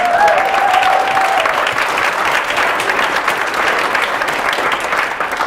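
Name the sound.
audience clapping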